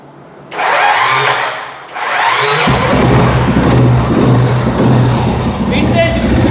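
A vintage Royal Enfield motorcycle is started on its electric self-starter: a whirring crank, then the engine catches and settles into a loud, close, steady low thump.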